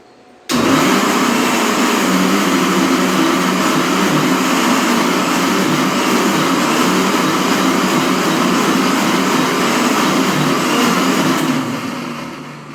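An electric grinder grinds hibiscus leaves and fenugreek with a little water into a fine paste. It starts abruptly into a loud, steady whirring roar that runs about eleven seconds, then winds down. No one speaks.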